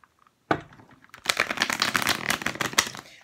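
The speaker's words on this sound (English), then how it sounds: "Let me just give the cards a really good shuffle here." Tarot cards of a worn, bent Gilded Tarot deck are shuffled up close in a quick riffling flutter after a short silence and a single sharp tap, a dense crisp rustle.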